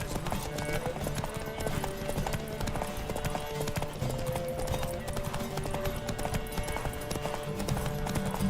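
Horses race at a gallop in The Witcher 3 video game, with dense hoof clip-clop heard throughout. The hoofbeats are loud and continuous and sit under game music and sound effects.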